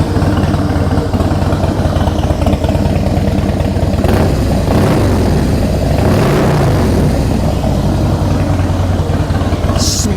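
A 2003 Harley-Davidson FXST with Vance & Hines Big Shots pipes idles loud and close, a steady lumpy V-twin rumble that holds without a break, with a few brief blips of revving partway through.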